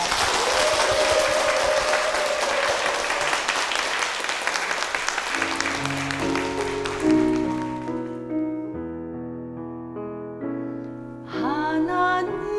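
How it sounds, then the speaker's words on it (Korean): A church congregation breaks into loud applause that fades after about six seconds as piano chords take over, the instrumental introduction to a hymn building toward the end. "큰 박수 부탁드립니다"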